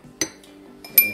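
A spoon is turned in a bowl of mayonnaise, giving two short bright clinks against the bowl in a quiet room, with soft scraping between them.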